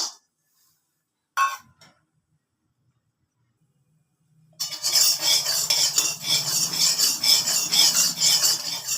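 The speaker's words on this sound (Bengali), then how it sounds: "শুকনো খোলায় রোস্ট করে নিচ্ছি।" Walnuts dry-roasted in a bare pan, a spatula stirring and scraping them continuously, close and fairly loud, after a few seconds of near silence broken by a single brief clink.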